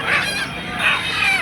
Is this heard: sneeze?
no